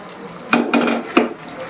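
Thinned watery mixture poured into a pan of garlic chicken gravy: a few short clattering splashes and pot clinks in quick succession, close and fairly loud, over a faint background.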